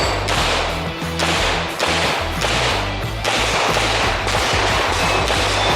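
Pistol shots on an IDPA competition stage, fired from a Watchtower Apache Pew View Edition in a quick string of sharp, loud cracks at an uneven pace, heard close with no talk over them.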